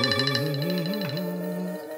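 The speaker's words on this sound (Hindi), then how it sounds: "ये इस वक्त फोन क्यों कर रहा है?" A phone ringtone plays a melodic electronic tune with a steady, sustained tone and upper harmonics, filling a short two-second span at moderate loudness with no talk over it.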